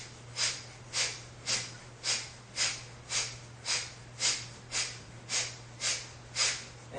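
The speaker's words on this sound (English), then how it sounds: "Let's try some Kapalabhati breath, forceful exhales." Kapalabhati yoga breathing during a class: a steady series of about fourteen sharp, forceful nasal exhales at a quick regular rhythm, close and clear over a low steady hum, with no talking.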